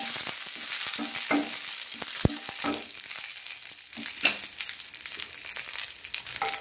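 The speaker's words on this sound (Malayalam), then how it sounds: "ഈ വറ്റൽമുളക് ഇട്ട് കൊടുക്കാം" Dried red chillies fry in a little oil in a pan for a brinjal chammanthi, giving a steady close sizzle with scattered crackles and pops and a few light scrapes, no voices.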